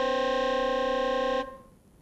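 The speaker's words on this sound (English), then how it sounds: "it sounds somewhat like a sound that a saxophone might make" Synthetic tone generated by a neural-network autoencoder's decoder, a buzzy, reedy saxophone-like sustained note that holds steadily then cuts off abruptly, leaving faint residual hiss.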